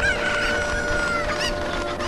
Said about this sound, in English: what the fuck are the chickens?